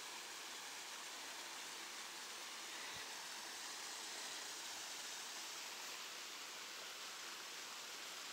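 A waterfall on the Double Run Nature Trail in Worlds End State Park rushes in a steady, unbroken hiss of falling water, even and fairly faint throughout, with no voices.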